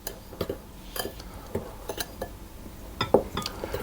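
A spoon or whisk clinks against a bowl while spices are mixed into flour for panforte, giving a scattering of light, close taps and scrapes at irregular intervals with quiet pauses between.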